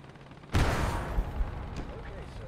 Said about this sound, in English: There are now 2 American tanks firing at a Panzer 1.